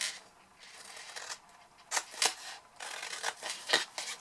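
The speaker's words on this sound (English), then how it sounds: "we're just going to cut now the 4 corners into our little tabs" Scissors snip through the corners of a large cardboard diffuser box to form tabs, close and quiet, with several sharp crisp cuts among softer rustling and handling of the material.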